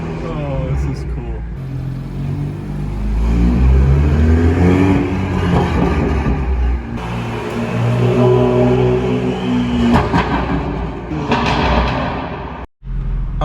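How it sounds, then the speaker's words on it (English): A BMW M2 engine runs while warming up inside a garage, a steady mid-pitched hum with occasional swells, heard under continuous talking. "we've successfully warmed up the car to operating temperature"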